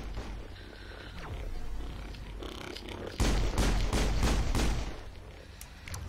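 Sniper fire from an enemy in the Mass Effect video game lands as a sudden heavy crack and a rapid cluster of impacts over a low game drone, loudest for about two seconds in the latter half.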